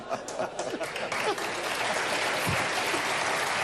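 An audience applauding at a live stand-up comedy show, a broad wash of clapping that stays full and even throughout, with a little laughter mixed in.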